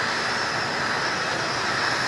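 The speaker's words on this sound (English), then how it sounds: "As the helicopter carrying the Vice President landed" Steady, loud aircraft engine roar from the helicopter carrying the Vice President as it lands near a town partly on fire, holding constant before cutting off abruptly at the end.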